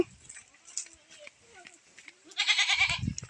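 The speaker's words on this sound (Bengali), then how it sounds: "এই ছাগলটি কিন্তু এই দুটি বাচ্চা জন্ম দিয়েছে" A local goat that has just given birth to two kids on a farm gives short, quiet bleats, then a louder, rougher bleating burst at the end.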